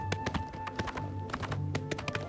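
A horse gallops in the video game Oblivion, with steady rapid hoofbeats thudding over a continuous background of game ambience.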